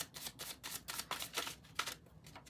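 A deck of tarot cards being shuffled in a long run of quick, crisp riffling bursts, close and fairly quiet, with no talking.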